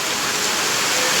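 Heavy rain pours down at night in a steady, dense hiss that stays loud and even throughout, with no voices.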